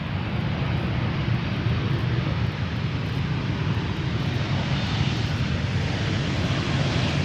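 An SAS Airbus A319 in Star Alliance livery arrives at Amsterdam Schiphol from Oslo, giving off a steady, dense engine roar that stays level and close throughout, with no voices.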